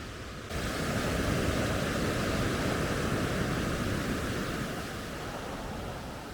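Sea waves washing into a rocky inlet in Iceland, a continuous broad roar of surf with steady rushing noise and wind, fairly loud and unbroken.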